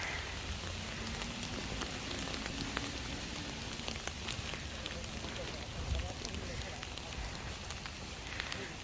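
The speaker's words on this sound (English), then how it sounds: "it's sizzling away in front of me" Steady crackling hiss like food frying in a pan, dense popping texture throughout, fairly quiet and close, with no other sounds breaking through.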